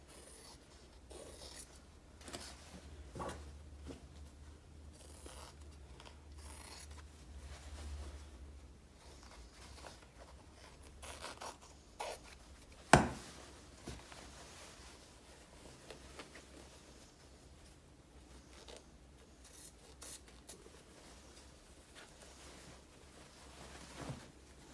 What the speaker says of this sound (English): you cut really near the seam to get as much fabric as possible out of this